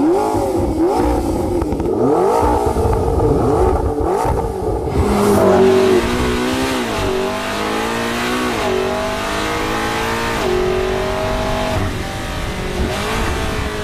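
A McLaren MP4-12C sports car engine revs hard and loud with its intake sound generator at full, pitch surging and falling repeatedly with a rough, growling intake roar and no talking.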